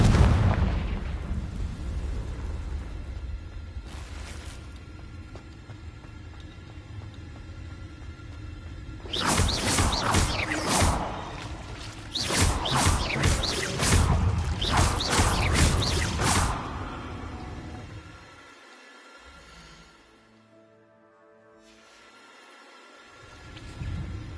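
Confringo blasting spells in Hogwarts Legacy, a loud burst of explosive blasts and impacts in the middle, set between quieter rumbling game ambience.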